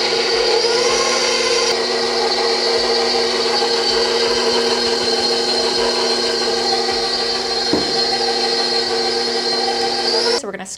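An electric mixer whirs through dark chocolate fudge cake batter, a steady close motor whine that shifts pitch as the speed rises, then cuts off at the end.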